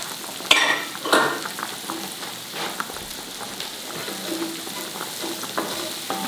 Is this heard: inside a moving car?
no